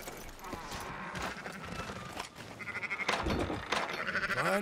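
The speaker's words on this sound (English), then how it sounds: "Fine sheep." Sheep in the video game Red Dead Redemption 2 bleat repeatedly and loudly, with wavering, nasal calls that come close together and overlap near the end, mixed with faint hoof and background game sounds.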